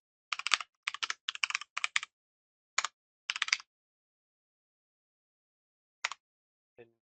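Code being typed on a computer keyboard in short bursts of crisp, close key clacks, separated by brief pauses, with one isolated keystroke after a longer gap.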